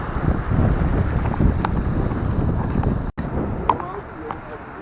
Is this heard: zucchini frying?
no